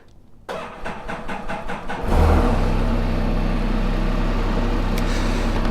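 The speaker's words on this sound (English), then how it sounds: "This is the coldest I've ever started the Spyder." A Can-Am Spyder is started in bitter cold: a series of rapid starter cranks lasts about two seconds, then the engine catches with a loud burst and settles into a steady, close idle.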